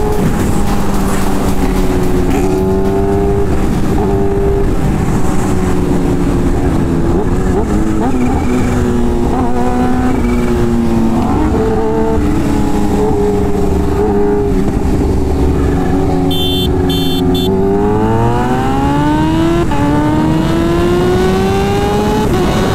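A Kawasaki H2 motorcycle races a Corvette Z06, engines loud and close throughout, with a steady roar and rising pitch sweeps as they accelerate hard through the gears.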